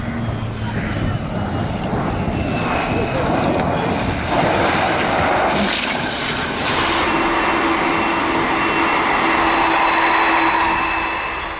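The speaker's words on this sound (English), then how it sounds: "this low transition takeoff is pure skill and precision" Blue Angels jet making a low transition takeoff, a loud sustained engine roar that swells and holds for several seconds, with a voice talking over it.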